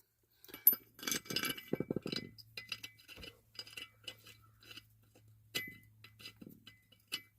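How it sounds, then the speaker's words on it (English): Metal bolts being fitted back into the frame of a 2003 Ford F150 during a frame hitch installation, giving a run of sharp, close clinks and taps spread irregularly over a quiet background. "I like putting the bolts back in."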